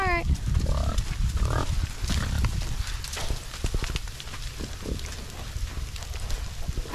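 Pigs on a farm grunt in short snorting bursts while people talk nearby, with shuffling and clattering movement mixed in on a snowy day.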